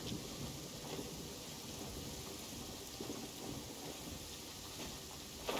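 Steady heavy rain pours with a low rumble of thunder rolling underneath, continuous and fairly distant, no voices, in Genshin Impact.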